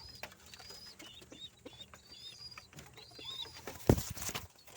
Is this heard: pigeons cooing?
yes